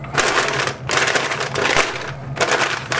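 Beef for pulled beef being wrapped tightly for a pellet smoker: loud, close crinkling and crackling in long continuous bursts separated by brief pauses, no talking.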